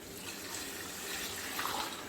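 Water pours into a pot of simmering beef masala for chana pulao, a steady soft splashing and rushing that runs unbroken and fairly quiet for about two seconds.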